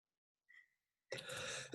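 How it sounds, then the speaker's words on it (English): A single harsh cough, close and abrupt, preceded by a brief faint tone and followed by silence. "sorry about the cough."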